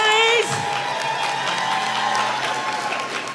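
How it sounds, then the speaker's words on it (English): A conference audience claps and cheers in a hall, dense sustained applause with whoops and shouts, loud and close, while a voice rings out over the crowd at the start. "Come on, algorithm conference, we're not clapping well enough. Make some noise! Make some noise!"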